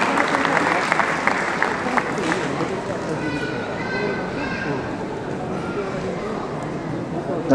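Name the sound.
audience applause at a jubilee ceremony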